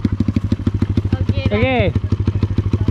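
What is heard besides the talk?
manual clutch motorcycle riding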